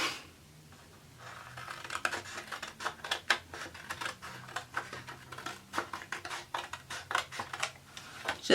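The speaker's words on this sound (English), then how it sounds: "I am going to use some scissors though, just to clean it up a little bit, the edges." Scissors snip repeatedly at paper, a quick irregular series of crisp cuts close by, with quiet pauses between bursts.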